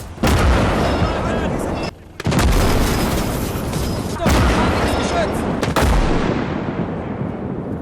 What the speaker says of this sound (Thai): นอกจากการสั่งปืนใหญ่ยิงอัดแบบบ้าคลั่งอย่างเดียว